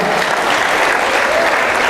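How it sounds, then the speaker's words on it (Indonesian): Dense, loud applause from a large audience at a Christmas celebration fills the space continuously, a steady wash of many hands clapping with no gaps. "Kita beri tepuk tangan dulu buat Tuhan"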